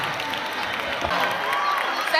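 An audience applauds steadily at a Malian national event in Mohammedia, Morocco, a thick continuous patter of clapping with crowd noise mixed in, while a voice speaks over it.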